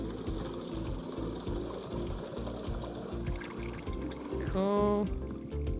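Water runs steadily into a kettle in the game Wanderstop, a continuous pouring wash over a faint mechanical ticking, with a brief spoken word near the end.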